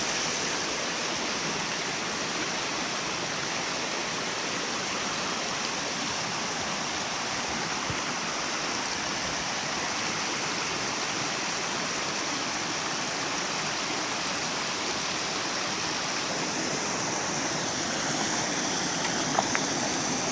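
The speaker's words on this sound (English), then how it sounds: "So I'm coming up to the main fall here." A river's main waterfall pours in a loud, steady broadband rush that never lets up, heard up close with no voices.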